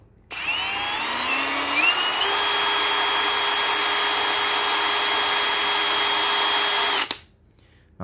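A Milwaukee FPD2 cordless brushless hammer drill starts up and runs at a steady high-pitched whine for several seconds, loud and close, then stops abruptly.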